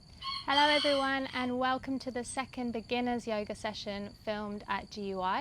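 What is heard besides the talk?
chickens clucking in a greenhouse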